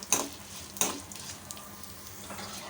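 Lentils and dried red chillies roast in a pan, giving a quiet, steady crackle with two sharp scraping stirs early on and softer stirring taps afterward.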